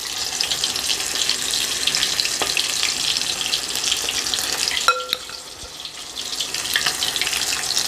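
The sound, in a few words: fish frying in a pan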